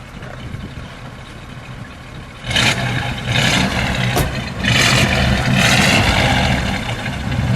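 A 1951 Ford Custom Convertible's V8 engine rumbles at idle, then is revved in a few short bursts that swell and settle, loud and close with no talk.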